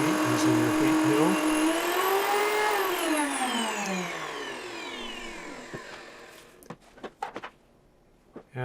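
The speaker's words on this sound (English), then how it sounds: "take your whole white wheat kernels and grind them into wheat using your wheat mill" A wheat mill grinds whole white wheat kernels with a loud whirring motor whine that rises in pitch, then winds down and fades, followed by a few clicks and knocks.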